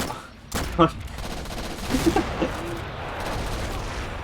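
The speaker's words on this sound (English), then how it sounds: "Artillery misses completely" Artillery fire and explosions from the Army Men plastic soldier war game, a sharp blast followed by a cluster of rumbling impacts against a steady battle din, with faint talk over it.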